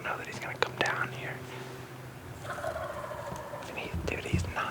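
A wild hen turkey calls from the woods, faint, broken yelps in short bursts, with quiet whispered talk close by.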